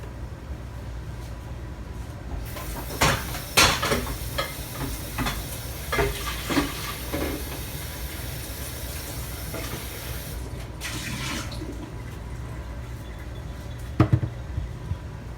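Pumpkin-sauce soup bubbles and simmers in a pot with a steady sizzling wash, broken by clinks and stirring scrapes and a pour of liquid partway through, close and fairly loud.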